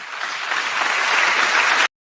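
An audience at a TEDx talk breaks into applause, a dense wash of clapping that swells slightly and holds steady before cutting off abruptly, with no talk over it.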